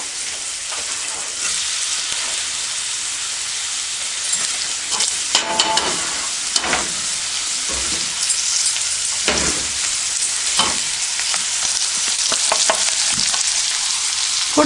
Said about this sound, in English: I added oil, and now sauteed onion.